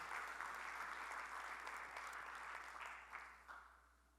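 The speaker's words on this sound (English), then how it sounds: "So big round of applause for all our speakers," Applause from a tech conference audience at a session on agentic enterprise, a broad, continuous wash of many hands clapping that stays steady and fairly distant, then thins and tails off near the end.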